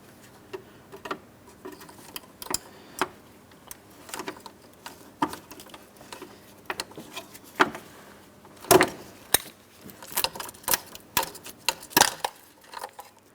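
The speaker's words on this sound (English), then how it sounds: "We'll pry that out of place. I'm using a trim tool." A trim tool pries out a plastic mounting point at the center of an electric cooling fan assembly on a 2008-2016 Chrysler Town & Country, giving irregular close clicks and taps that cluster into a louder burst of plastic snapping.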